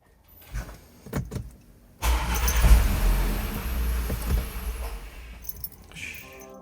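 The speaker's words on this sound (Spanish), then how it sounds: "el motor giró, pero no arrancó." Audi Q5 bought at auction, engine cranking without starting: a few clicks and clunks, then a sustained whirring, churning crank that runs for several seconds without firing, close and moderately loud, then fades off.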